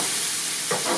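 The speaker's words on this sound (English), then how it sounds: "now we are supposed to just saute this for about 3 to 4 more minutes" Garlic, corn, beans and onions sauté in a pan, a dense continuous sizzle heard close and fairly loud with a slight surge near the end, no voices.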